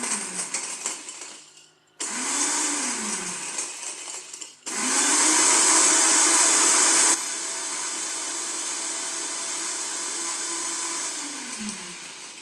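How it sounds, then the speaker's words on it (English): Kitchen blender whirring in loud bursts, stopping and restarting with changing pitch as it mixes, alone without talk. "I'm mixing it in a blender."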